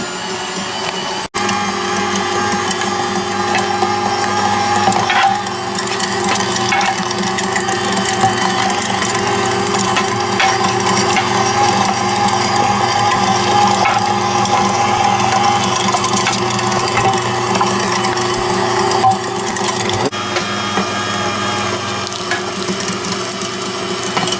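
An electric meat grinder runs continuously while coarse grinding deer meat for sausage, a loud, steady mechanical whir with gear hum and faint ratcheting, broken by a few brief knocks.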